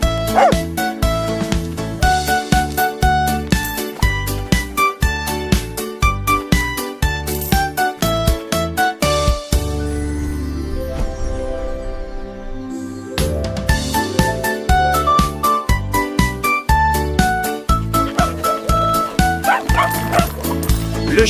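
Cartoon dog barks, yips and whimpers sound in rhythm within a bouncy children's song with steady beat and music, pausing briefly midway before resuming.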